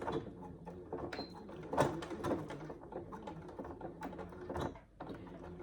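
A sewing machine stitches a line along the pocket of a leather-look saddle bag, its motor whirring steadily with rapid mechanical clicks and small thumps, close and moderately loud, no voices.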